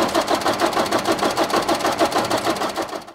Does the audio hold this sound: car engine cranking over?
yes